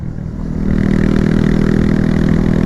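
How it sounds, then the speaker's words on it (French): A motorcycle fitted with a new aftermarket exhaust line idles, then rises into a loud, steady, throaty engine note with a rapid pulsing rumble, close and alone. "Déjà j'entendrai mieux le moteur pour passer les rapports."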